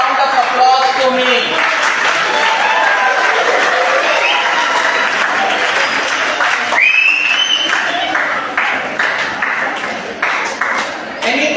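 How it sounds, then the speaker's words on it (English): Sustained applause from a lecture audience at the close of a class session, dense clapping running steadily throughout and thinning slightly toward the end. "A big round of applause to me."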